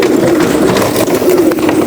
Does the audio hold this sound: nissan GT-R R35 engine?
no